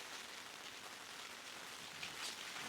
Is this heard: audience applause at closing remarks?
no